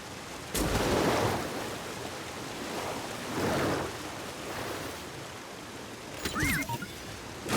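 Waterfall in Star Wars Jedi Fallen Order, a steady broadband wash of rushing water that swells now and then and continues throughout, with a few brief tonal game effects near the end.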